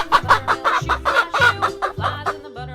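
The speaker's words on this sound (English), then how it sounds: "Chicken." A chicken clucks on a farm in a quick, steady series of short, close clucks that come in regular bursts, loud and alone.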